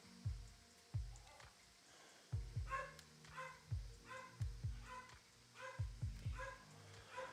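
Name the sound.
dogs barking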